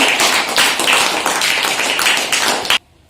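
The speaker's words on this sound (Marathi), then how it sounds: "एकदा जोरदार टाळ्या होऊन जाऊ द्या यांच्यासाठी" Loud, dense applause from a group in a classroom celebrating students, steady clapping for under three seconds before cutting off abruptly into silence.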